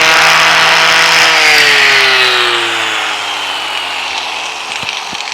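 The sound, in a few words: power sanding car door with 40 grit abrasive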